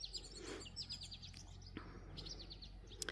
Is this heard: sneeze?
no